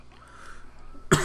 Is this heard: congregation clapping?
no